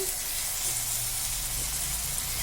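Finely chopped tomatoes fry with chillies in a hot pan, giving a steady, close, even sizzle with a soft hiss and no pauses.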